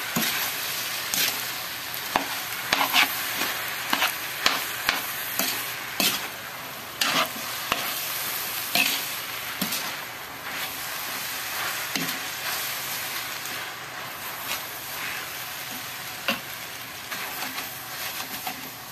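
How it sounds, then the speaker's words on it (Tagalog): Biko, a sticky rice cake, being stirred hard in a pan, with repeated scraping and clacking strokes over a continuous oily sizzle, close and rhythmic, no voices. "Puspusang halo-halo na ito, guys."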